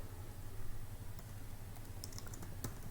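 Someone typing on a computer keyboard, a steady run of light, quick key clicks with a few sharper taps, close and fairly quiet over a low background hum, no talking.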